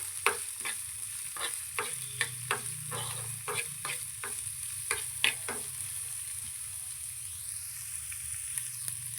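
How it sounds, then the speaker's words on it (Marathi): Chopped onion sautéing in a pan for bun dosa, with a soft continuous sizzle under a quick series of sharp spoon scrapes and taps that stop partway, leaving the frying alone. "हे आपल्याला सगळं असं हलवून घ्यायचं आणि एकदम कांदा जरासा लाल होऊपर्यंत परतून घ्यायचा"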